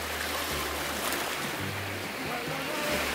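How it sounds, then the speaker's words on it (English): Ocean surf at a small island beach, a steady broadband wash of waves with low rumbling undertones, continuous and fairly close, no voices. "There's a lovely little beach and miles of inviting ocean for a quiet swim."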